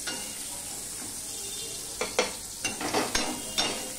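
Flat beans sizzle steadily in a kadai for Bengali winter khichuri, with a run of sharp scraping stir strokes against the pan in the second half, close and loud with no talking.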